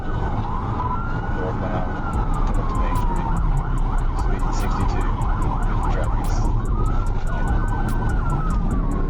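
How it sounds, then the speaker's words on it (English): A police car's wailing siren sweeps up and down over steady road noise during a chase, joined by a rapid electronic yelp pattern, loud and close. "Trooper Ledden flipped on his lights and sirens, joining the chase as the Ram sped past."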